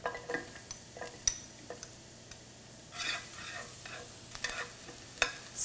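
Shallots and garlic sweat in hot oil in a pan for a Thai curry, a faint sizzle broken by scattered light clicks and scrapes of a utensil stirring.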